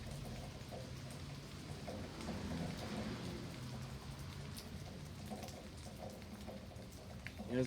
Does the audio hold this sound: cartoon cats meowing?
no